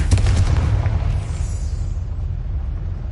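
A Confringo blasting curse exploding in a Harry Potter video game: one loud, close boom with a heavy low rumble that hits at once and then rolls away steadily over a few seconds.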